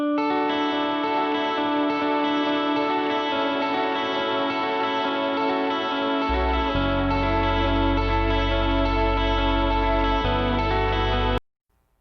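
Effected electric guitar intro lick for a song, bright ringing sustained notes with chorus and echo, a low bass note entering midway, playing steadily then stopping abruptly.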